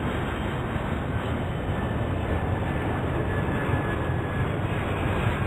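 Steady, dense engine roar of a jet airliner taking off in the airport management game Airport Madness 4, loud and continuous throughout with no talking.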